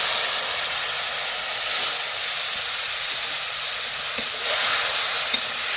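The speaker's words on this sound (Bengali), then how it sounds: "দেবো হলুদ এর গুঁড়ো, জল দেবো" Water poured into a pan of frying turmeric spice mix raises a loud, steady broadband sizzle and steam hiss that holds throughout, with a couple of faint clicks near the end.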